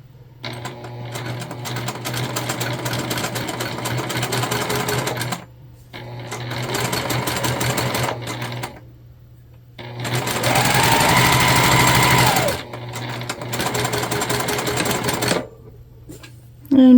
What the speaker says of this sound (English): we're just sewing across the short end here